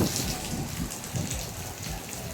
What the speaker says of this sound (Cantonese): 雖然而家又大風又大雨